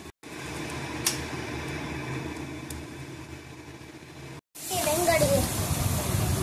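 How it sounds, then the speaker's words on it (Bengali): White lentil bori sizzle in hot oil in a wok (kadai) for Bengali dudh shukto. The frying makes a continuous hiss that grows louder after a brief cut, while someone talks over it. "শুক্তোর জন্য বড়ি ভাজা চলছে"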